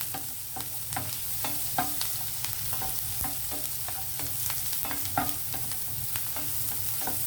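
Chopped onion sizzles steadily in a hot pan for Indian-style macaroni pasta, with soft, regular clicks of a spoon stirring through the constant frying hiss.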